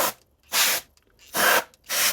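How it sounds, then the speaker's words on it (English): Compressed air blasts into the chassis of a vintage Fisher 220T receiver in three short, loud hissing bursts separated by brief silences, close and alone without talk. "I'm just going to spray some air in here."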